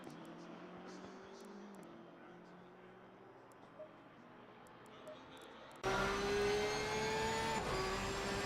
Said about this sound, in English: I love the sound of this car. I don't think I'd ever drive the Porsche, but I love the sound of it.